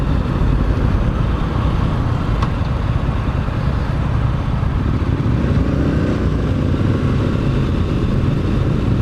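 A Triumph Street Scrambler motorcycle being ridden, its engine droning steadily and loudly throughout with wind and road noise and no clear gear changes.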